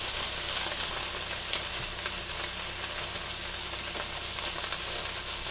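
Thick pieces of ham fry in a pan and are stirred around with a spatula, making a steady, close sizzle with faint scrapes and no talking.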